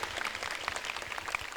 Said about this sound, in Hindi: जोरदार ताली से उस बेटी का स्वागत होना चाहिए।